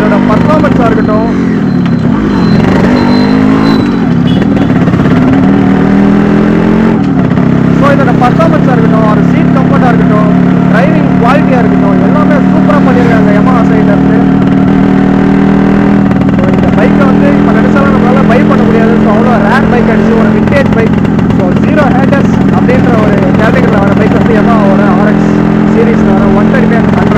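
A Yamaha RX 135 two-stroke motorcycle rides steadily with a pillion aboard, its engine droning loud and close throughout with shifts in revs as a rider talks over it.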